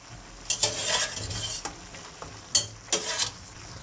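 Chillies sizzle in hot oil in a pan while a utensil stirs and scrapes against the metal, with steady frying hiss and several sharp knocks and scrapes; no one talks.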